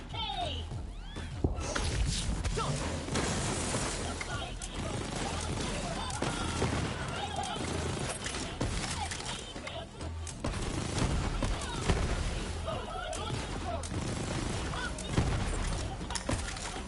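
Sustained SMG fire in the video game Borderlands 3, a dense, continuous stream of rapid shots and impacts mixed with explosions and game effects, loud throughout, with a player talking over it.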